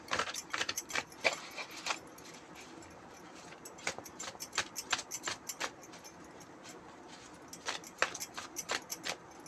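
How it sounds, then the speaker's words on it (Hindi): Tarot cards being shuffled by hand in repeated crisp riffling bursts, close and fairly quiet, with short pauses between rounds and no talking. "5 बार शफल करेंगे।"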